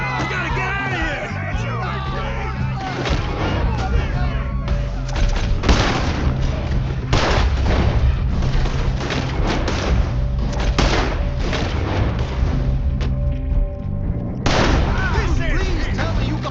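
A loud, dense shootout from Red Dead Redemption 2 rages on, with rapid gunshots, booming blasts and heavy thuds overlapping almost continuously, while voices shout in the middle of the fighting.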